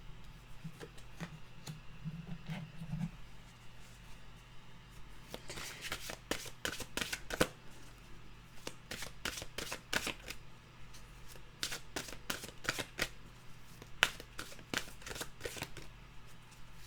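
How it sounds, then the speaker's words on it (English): A deck of mantra cards being shuffled, faint close riffles and crisp card snaps in irregular bursts, quietly with no talk. "let's get a mantra card,"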